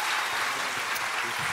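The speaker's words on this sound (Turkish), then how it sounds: "Alkışlarınızla Mert Fırat." Studio audience of a Turkish talk show applauds as a guest actor comes on, a dense, steady wash of clapping filling the room with no talk over it.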